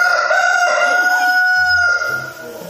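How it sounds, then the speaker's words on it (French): A rooster kept among hens crows one long, loud, close call that fades into low clucking at the end. "Il faut devoir dormir avec des poulets et un coq."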